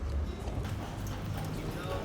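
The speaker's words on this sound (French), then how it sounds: "Une carrosse avec des chevaux" Horse hooves clip-clop on the street as a horse-drawn carriage passes in Vieux-Québec, a steady close clatter under a person talking.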